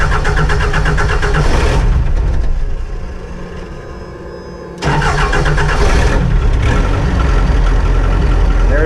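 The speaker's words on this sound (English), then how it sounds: "There's all the fun diesel sounds." A diesel engine cranks and fires close by, revving loudly, dips briefly to a quieter idle, then surges back to a strong, steady running roar.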